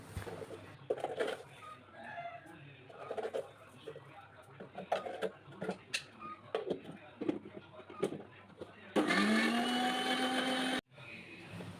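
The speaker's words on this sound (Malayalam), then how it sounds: "ഇതാ ഐസ് വാട്ടറും വെച്ചിട്ട് പഞ്ചസാരയും കൂട്ടിയിട്ട് നന്നായിട്ട് അങ്ങോട്ട് അടിക്കുക" An electric blender whirs loudly for about two seconds near the end, blending raw green mango juice with sugar and ice water, after a stretch of quiet kitchen sounds and distant bird calls; it cuts off abruptly.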